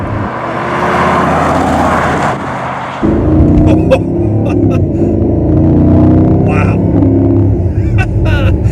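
A Mercedes SLR supercar engine revs at about half throttle, a deep rising roar that swells into a loud sustained growl with a brief exclamation from a person inside.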